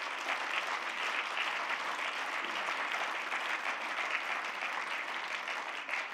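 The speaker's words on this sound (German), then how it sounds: "und verdient auch Beifall." Sustained applause from an audience at a party leader's speech to a municipal congress, steady dense clapping throughout with no pauses.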